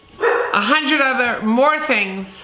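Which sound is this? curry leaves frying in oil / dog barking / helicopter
dog barking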